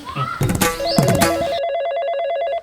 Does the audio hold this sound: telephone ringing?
yes